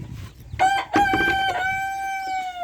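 A rooster crows loud and close in one long drawn-out call, with short clucks from hens just before it on a small poultry farm.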